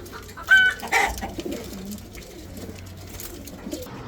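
Pigeons in an outdoor loft at Chunkutia, Keraniganj, give a few short coos and calls close by, loudest early on, over a low, steady background murmur.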